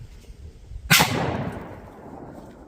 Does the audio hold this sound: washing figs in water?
no